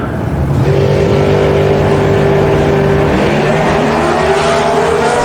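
A G Econo dragster with a 248 cubic inch inline six-cylinder engine races at an NHRA drag strip in Las Vegas, its loud engine roaring hard and climbing in pitch as it accelerates away.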